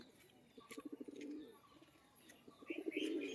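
Pigeons cooing close by in soft, throbbing bursts, one early run of rapid pulses and another near the end, with faint chirps in between.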